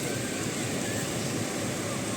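Adriatic Sea waves wash onto a beach at Shëngjin, Albania, heard as a continuous, even surf wash with a broad hiss and no distinct breaks.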